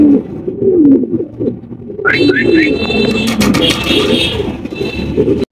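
Large King pigeons coo repeatedly in low, rolling calls close by, with a sharper higher bird call partway through and a steady background murmur.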